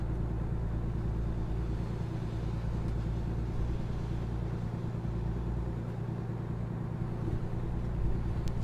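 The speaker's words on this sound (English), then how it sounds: "Riding the rumble strip." Truck tyres rolling over a rumble strip in American Truck Simulator, a steady loud low drone and rumble that holds unbroken throughout with no voices.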